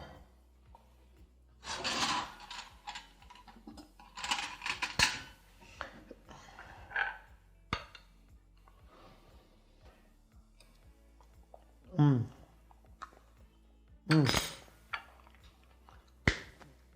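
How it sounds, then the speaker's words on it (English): A fork and cutlery handled while tasting soft plantain in a kitchen: intermittent scraping, rubbing and light clicking, in uneven bursts with short louder strokes and quiet stretches between. "Let me grab a fork."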